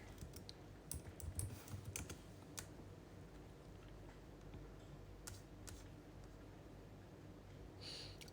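Quiet typing on a computer keyboard, scattered soft clicks and taps in irregular bursts against a low room hum, close to the microphone.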